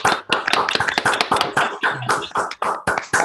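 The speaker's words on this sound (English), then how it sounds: "Let's have another round of claps for all of those" An audience breaks into a round of applause, many hands clapping densely and steadily throughout, loud and close, with no voices over it.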